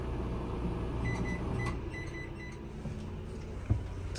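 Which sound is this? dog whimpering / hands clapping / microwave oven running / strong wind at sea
microwave oven running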